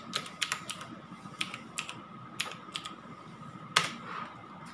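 Keys clatter on a computer keyboard as a project name is entered in the Scratch programming site, irregular bursts of close taps with short pauses and one sharper keystroke near the end, no talking.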